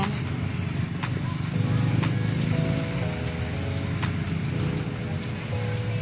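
Steady road traffic near a busy street, a continuous broadband rumble of cars, buses and trucks with passing engines and occasional brief horn-like tones, people talking nearby.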